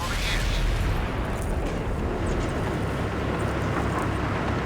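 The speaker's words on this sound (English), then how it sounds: "that's artillery on my head" Artillery shell exploding on a tank in World of Tanks, a heavy low rumbling boom that opens loud and rolls on under continuous battle noise, with a voice talking over it.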